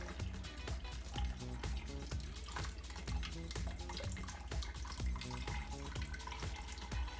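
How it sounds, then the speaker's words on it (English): Water drips and trickles from a lifted hops bag back into a brewing pot during home beer brewing, a busy, close run of splashing drops. "I'm just gonna let all the water drop back into the pot."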